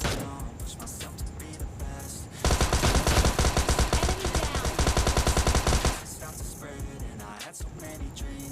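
Automatic gunfire in the battle-royale game PUBG Lite rattles in a loud sustained burst lasting several seconds, standing out sharply from the quieter game ambience around it.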